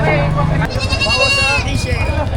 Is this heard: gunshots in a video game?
no